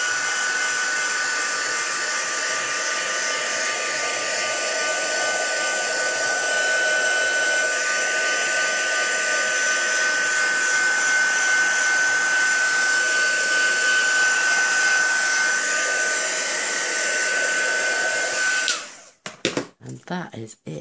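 A steady, loud whir of a heat tool drying ink and colour with glitter on an embossed card runs continuously for about eighteen seconds, then cuts off abruptly, leaving a few faint clicks and handling sounds.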